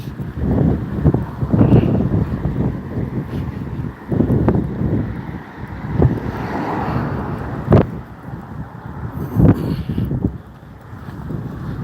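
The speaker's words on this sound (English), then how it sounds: "Wind's picking up." Wind buffets a microphone outdoors on a pre-dawn walk, making loud, low, uneven rumbling gusts that surge and ease across the whole stretch.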